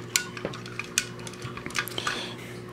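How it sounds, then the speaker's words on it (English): Small plastic parts of a Transformers G1 Headmaster Chromedome toy click and clack as pieces are rotated and flipped, a series of light, sharp taps and snaps up close, with no talking. "we're going to rotate this part of the car like that, flip this part back"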